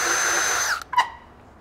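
A power drill bores rivet holes through the metal stop end of a roof gutter, holding one steady whine that winds down and cuts off, followed by a brief short burst close by with no speech.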